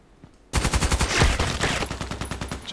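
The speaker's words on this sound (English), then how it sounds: "this is a small machine gun" A small machine gun fires in rapid bursts during a contracts mission in a shooting video game, starting after a brief quiet moment and continuing as a loud, close, steady rattle of rounds.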